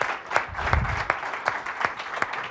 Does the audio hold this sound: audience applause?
yes